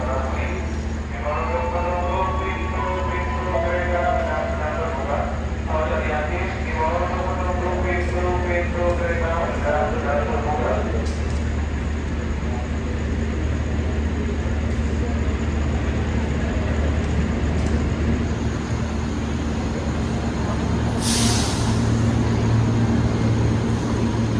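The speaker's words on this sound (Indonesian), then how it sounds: "KRL-nya udah masuk teman-teman, menuju ke arah Solo ya." KRL commuter train, a JR205 set bound for Solo, pulling into platform track 2 at Lempuyangan station: a steady low rumble and hum of the arriving train with station ambience, while a voice talks over the early part.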